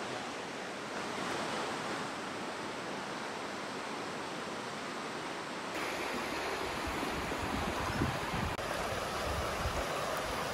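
An Alpine waterfall rushes in a continuous broad roar heard from fairly close, steady throughout with no voices.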